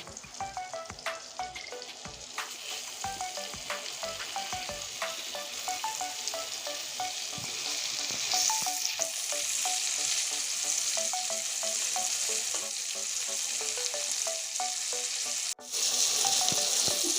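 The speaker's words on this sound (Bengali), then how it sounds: "এবার বেগুনটা আমি ভেজে নিচ্ছি এবার তেলে ছেড়ে দিচ্ছি বেগুনটা" Eggplant rubbed with salt and turmeric fries in hot oil, sizzling in a dense, continuous crackle that swells louder partway through, broken by light clinks from stirring and a brief sharp dip near the end.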